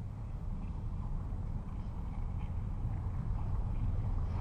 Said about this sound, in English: After some more furious paddling